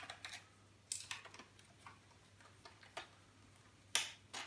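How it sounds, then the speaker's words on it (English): Screws being unscrewed from an old laptop being scrapped, a quiet series of sharp clicks and small metallic ticks at irregular intervals over a low steady hum, close, with no talking. "Sorry about this unscrewing all the screws, guys, but it's what comes with the scrapping."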